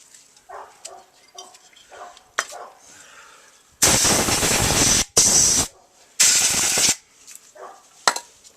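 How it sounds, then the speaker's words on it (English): Compressed air blasts around the spark plug area of a 2010 Harley-Davidson Road Glide engine in three loud, sustained hissing bursts of about a second each, between quieter handling noises and soft clicks. "I do like to use a little bit of compressed air before I pull the plug out, so I don't get any dirt now in the combustion chamber"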